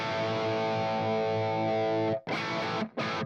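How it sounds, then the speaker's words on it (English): A sustained, heavily distorted electric guitar chord rings thick and loud, then cuts off, followed by two short distorted bursts. "crank the master volume, you're going to be getting some power amp distortion"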